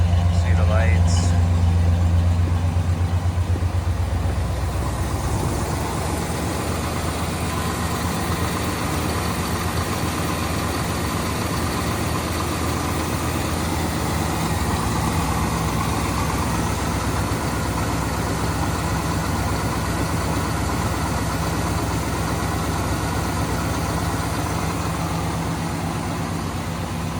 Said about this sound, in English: Just gonna let it warm up for a second, and then I'll give it a couple of revs for you.